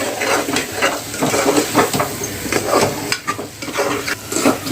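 Spices being stirred into ivy gourd (tondli) vegetable in a pan, with a steady run of scraping spoon strokes over a continuous frying sizzle, close and fairly loud, no voices.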